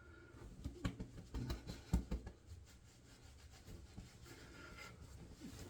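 A razor glides in a buffing pass during a wet shave with a Razorock Gamechanger, giving close, soft scraping strokes in a quick series of bursts that then fade into quieter, sparser rasps.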